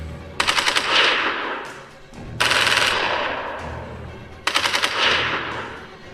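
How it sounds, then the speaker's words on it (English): Men open fire with guns as an elevator opens: three loud, rapid bursts of automatic gunfire, each followed by a ringing, decaying echo. "The elevator opens up, and the men open fire."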